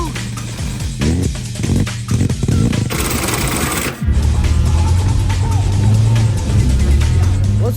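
The rotary engine of a 1985 Mazda RX-7 fitted with hydraulics idles loud and near on its own, with a choppy, uneven burble that steadies into a low droning hum. A brief burst of noise cuts in partway through.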